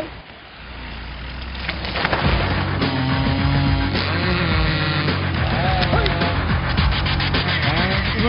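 Petrol chainsaw cutting through pine wood, a steady loud engine drone with rising and falling pitch as the chain bites, continuous and close throughout.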